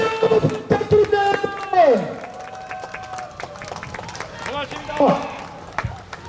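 Crowd applauding and cheering at a Korean election campaign rally in Namyangju, with clapping running throughout under loud amplified music and announcer sounds, energetic and busy.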